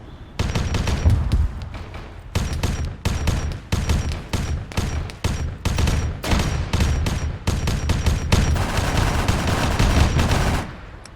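Plasma weapons fire in Arma 3 with a Warhammer 40k mod, loud rapid bursts of sharp repeated shots in clustered volleys, nearly continuous toward the end with brief gaps between salvos.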